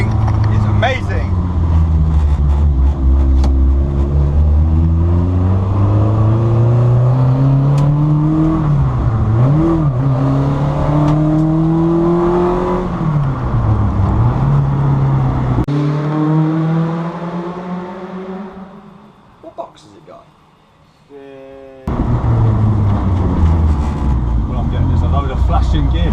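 A Peugeot 306 Maxi rally car's engine, heard from inside during a ride-along, revs hard and loud with rising and falling pitch through gear changes. It drops away briefly to a quieter lull, then roars back.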